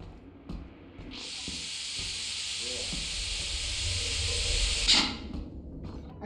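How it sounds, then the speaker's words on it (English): A steam leak in the video game Lethal Company hisses loudly and steadily for about four seconds, then cuts off. Faint knocks and a quiet voice can be heard underneath. "It's a steam leak."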